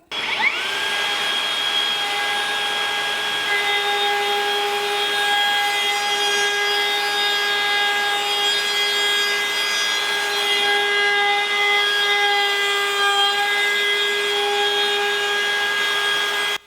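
A Metabo HPT 36V MultiVolt half-inch cordless plunge router cuts wood while a small battery-powered vacuum on an extended hose draws dust, a loud steady whine with sustained tonal hum running unbroken for the whole stretch.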